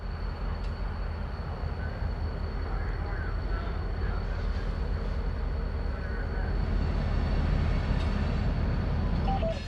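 A Reading & Northern freight train on the Susquehanna branch gives a steady, continuous low rumble with a faint high whine throughout, fairly close and unbroken.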